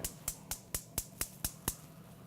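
Eight quick, evenly spaced ignition clicks from a gas stove being turned on, sharp and close, with quiet background between them.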